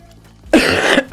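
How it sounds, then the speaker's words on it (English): A person coughs hard and close, one burst of rough, harsh coughing lasting about half a second with a shorter cough right after it, over faint background sound from a modded Binding of Isaac game. "I really apologize for my coughing."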